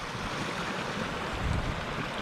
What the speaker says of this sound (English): this is definitely a lot more water than normally is coming through here